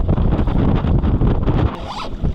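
A motorboat engine revving on a river during a fishing trip, a loud rough roar mixed with heavy wind buffeting on the microphone, easing off briefly toward the end.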